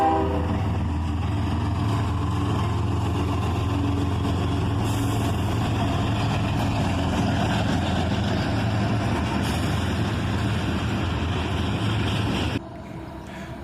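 An SD70MAC locomotive train rumbles past at Leo Street, a steady loud roar of engines and rolling wagons with rail noise, ending in a sudden drop to quieter ambience.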